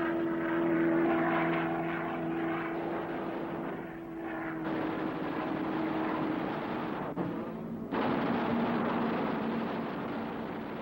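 A Lockheed P-38 Lightning with twin Allison engines droning loudly and steadily, a sustained propeller roar with a slight pitch shift as it passes, briefly dipping before resuming, with no talk.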